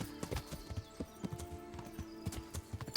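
Horse hooves clip-clop in a video game in uneven, close thudding steps over a faint hum, with no speech.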